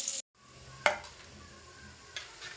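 Onion sautéing in oil with salt in a pan, a soft continuous sizzle broken by a couple of sharp stirring scrapes of a utensil, close and fairly quiet.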